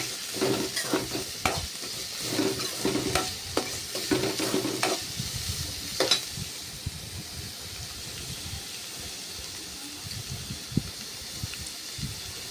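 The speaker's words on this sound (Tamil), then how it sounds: "நான் இன்றைக்கி வந்து கேரட் பீன்ஸ் அண்ட் முட்டைக்கோஸ் போட்டிருக்கேன் போட்டு நல்லா சாட்டே பண்ணிக்கோங்க ஃப்ளேம் ஹைலி இருக்கணும்" Carrot, beans and cabbage sauté on high flame for veg fried rice, a close busy sizzle with repeated scraping stir strokes and clatter early on, easing to a softer steady frying hiss without talk.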